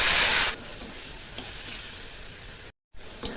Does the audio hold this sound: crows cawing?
no